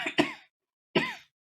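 Two short, close coughs from a sick person, one right after the other with a brief pause, dry and throaty, alone without talk.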